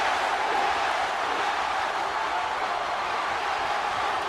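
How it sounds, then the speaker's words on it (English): A wrestling arena crowd in the video game WWE 2K23 cheers in one loud, unbroken roar that holds steady from start to finish. "They're going to cheer this man till they can't hear no more."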